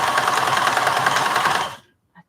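A sewing machine stitches a project bag in a fast, even mechanical chatter that runs steadily, then stops abruptly, followed by a faint small click.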